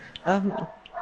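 Pet dog, a female, letting out a single short bark close by, followed by faint whimpering sounds.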